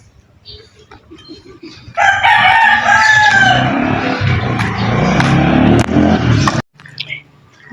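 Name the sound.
roosters crowing and chickens in a village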